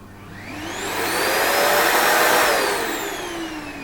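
A Nilfisk vacuum cleaner whines up as its motor starts, holds a loud rushing roar with a rising and falling pitch, then begins to wind down, heard close and alone.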